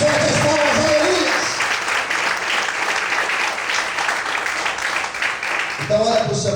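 Church congregation clapping loudly and steadily throughout, a dense continuous wash of applause with a preacher's voice speaking briefly at the start and end.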